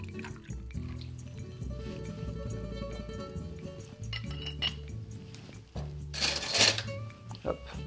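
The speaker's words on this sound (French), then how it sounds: "Hop, on mélange le tout." Caipirinha being mixed with cachaça in a glass, light clinks of utensil against glass and liquid sloshing, ending in a brief burst of harder stirring, with quiet talk in the background.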